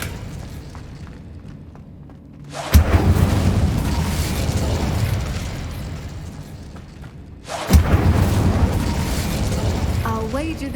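A fiery spell blast in the Hogwarts Legacy video game, sounding twice as loud sudden bursts about five seconds apart, each followed by a roaring, crackling rumble that fades slowly over a low ambient background.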